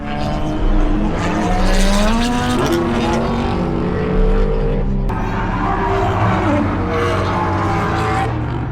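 Cars roll racing at a drag strip during a drift event: loud engines roaring and revving with rising pitch, up close and continuous, with a brief dip midway and a rough, wind-buffeted quality.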